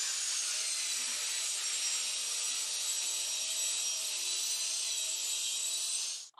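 A saw rips a 1x10 wood board lengthwise in half, a loud, steady, bright whining rasp that runs unbroken for several seconds and then cuts off abruptly.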